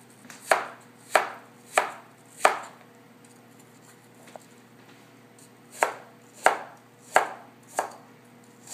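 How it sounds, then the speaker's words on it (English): A knife slices a Granny Smith apple into thin pieces on a cutting board. Seven crisp, close knocks land in two rhythmic bursts, separated by a pause with one faint tap, and no voices. "When you cut the apple, I like to cut it just on either side of the stem, wide enough I'm going to miss the core, and then slice it"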